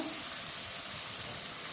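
Oil in a pan sizzles steadily while egg and drumstick curry is being cooked, a close, even frying hiss with no voices over it.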